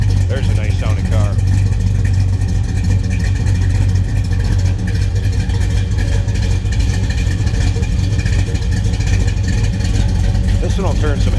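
Steady, loud, deep idle from a 1971 Chevrolet Chevelle Malibu convertible with a 383 V8, rumbling continuously with slight blips while someone talks over it.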